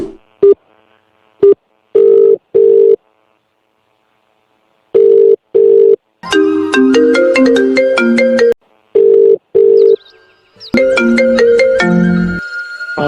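A telephone rings in bursts of short electronic tones separated by silences, followed by a louder melodic ringtone with layered notes that plays twice, clear and close.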